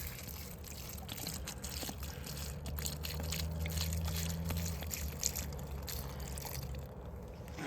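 Water trickles and dribbles as it is tipped out of a vintage 1970s Thomson Lewis piece, a soft continuous pour lasting several seconds, fairly quiet and close.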